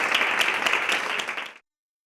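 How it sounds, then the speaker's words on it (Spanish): Audience applause at a year-end women's technology event in a hall, a short dense burst of clapping that rises at once and cuts off abruptly after about a second and a half. "con un fuerte aplauso"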